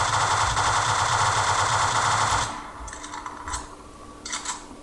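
Rapid automatic gunfire from guns in Garry's Mod rattles loudly and continuously for about two seconds, then stops, leaving a few scattered clicks and quieter mechanical sounds.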